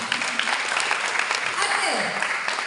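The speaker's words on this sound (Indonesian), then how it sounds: "Tepuk tangan dong." An audience of young people at a Hindu youth gathering claps in a dense, steady burst of applause, with voices mixed into the noise throughout.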